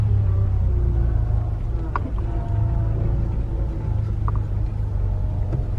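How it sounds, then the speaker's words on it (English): Manual transmission car reversing under throttle, heard as a loud, steady low engine rumble from inside the cabin with a couple of faint clicks, no talking. "But I'm putting gas now, reversing,"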